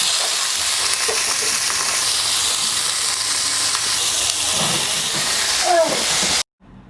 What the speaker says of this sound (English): I'm going to add my seafood to the pan